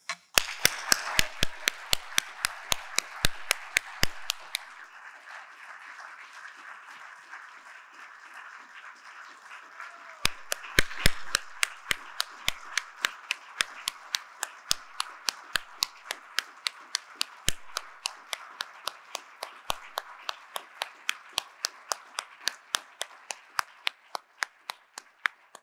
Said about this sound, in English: Je vous invite donc tous et toutes à vous joindre à moi pour donner une chaleureuse main d'applaudissement à notre collègue